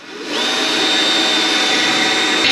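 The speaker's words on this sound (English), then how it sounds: "14mm drill bit, let's do it." A power drill with a 14mm bit whirs up and holds a loud, steady high-pitched whine, running continuously at close range.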